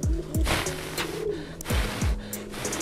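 Young pigeons coo in low, throaty swoops, several in a row with short pauses, close by over a soft background hiss.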